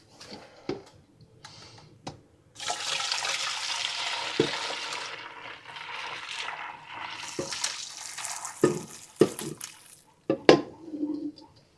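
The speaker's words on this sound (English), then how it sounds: "I'm going to angle it down so y'all can see me pouring it through the strainer." Strawberry top juice poured through a strainer during home canning, a steady liquid stream splashing and trickling for several seconds amid clinks and knocks of kitchen utensils.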